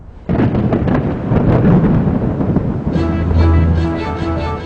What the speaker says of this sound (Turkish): Bu patlama sesi gök gürlemesi olarak adlandırılır.